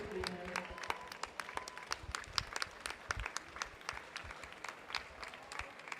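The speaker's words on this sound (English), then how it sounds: "Let's clap them in after they've done this 400 metres" Spectators at an indoor swimming gala applaud two swimmers finishing a 400-metre race, with scattered, fairly distant claps echoing throughout at a modest level.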